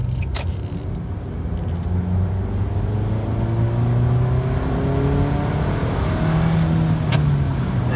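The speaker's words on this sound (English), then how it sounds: "I'll kind of get up to speed a little bit quicker to show you the speed of the car" A 2012 Nissan Sentra SE-R Spec-V accelerates onto a highway, its engine note climbing steadily through the gears over a constant whir of road and wind noise from inside the cabin, loud and unbroken throughout.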